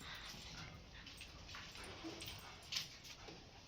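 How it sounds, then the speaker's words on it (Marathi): A dog whimpering softly, one brief faint whine rising over a quiet, hissy background near the middle of the short stretch. "आता कुत्रं"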